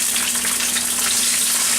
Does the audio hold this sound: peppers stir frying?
yes